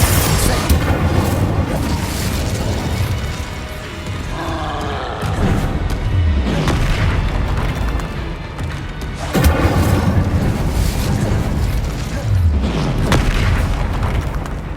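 Confringo fire-blast spells explode in the video game Hogwarts Legacy, sending repeated heavy booms through a loud, dense rumbling battle soundscape for the whole stretch.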